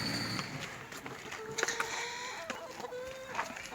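Chickens clucking and squawking nearby in a village yard in İzmir, over a busy outdoor background, with occasional louder calls rising above the din.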